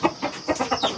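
Chickens cluck in a farmyard, five or six short, close bursts of clucking in an uneven rhythm, loud and alone without talk.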